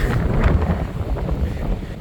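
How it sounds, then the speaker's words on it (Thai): Strong wind gusts buffet the microphone outdoors at Huai Nam Dang National Park at sunset, producing a loud, rough, continuous roar. "น่าจะไม่ได้ยินมันเสียงลมแรงมาก"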